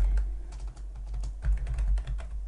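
Someone types a query name on a computer keyboard, producing quick, uneven clicking keystrokes close to the microphone, with no speech over them.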